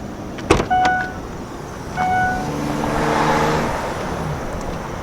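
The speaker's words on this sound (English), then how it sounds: "it is standard hands-free power, so all you have to do is wave your foot under the bumper to open it up" Hands-free power tailgate of a 2020 Mercedes GLC 300 opening, with a sharp latch clunk and beeps followed by a smooth electric motor whir that rises and runs steadily as the trunk lifts.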